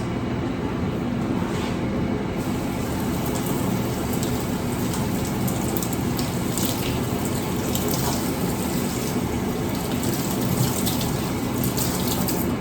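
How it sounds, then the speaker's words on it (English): Water runs steadily from a kitchen tap, a constant rushing splash into a sink that continues unbroken throughout, fairly loud and close. "So I don't know if y'all heard the water"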